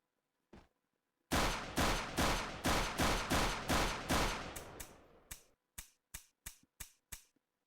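Gunfire sound effects from a self-made first-person shooter game: one isolated shot, then a rapid string of sharp, evenly spaced shots that fade as they decay, followed by a short separate burst of five more shots.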